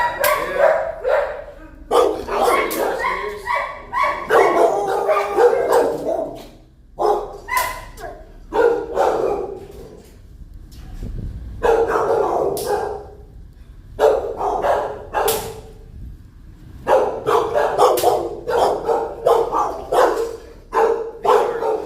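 Several dogs bark loudly and continuously in overlapping bursts, with brief pauses between rounds, close by and echoing slightly indoors during an animal control visit.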